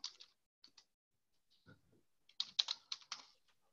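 Bursts of typing on a computer keyboard, quick clustered key clicks with short pauses, close and clear with no talking.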